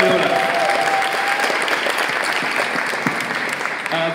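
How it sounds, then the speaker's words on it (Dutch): An audience applauds at an art and glitch event, a loud, dense wash of many hands clapping continuously throughout, with a brief voice near the start. "Applaus voor Viola."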